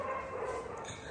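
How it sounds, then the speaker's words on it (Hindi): Dogs bark and yip during a road trip, a brief, faint burst heard from a distance behind a steady background hum. "कुत्ते तो इतना भौंक रहे हैं यार"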